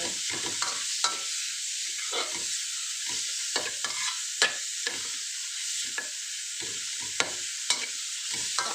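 Pork is stir-fried in a pan with a continuous close sizzle, cut by repeated scraping strokes of a spatula at an irregular rhythm.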